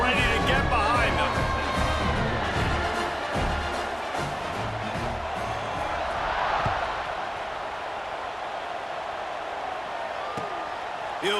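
Stadium crowd in EA Sports College Football 26 around a kickoff, a steady broad roar that swells gently under continuous play-by-play commentary.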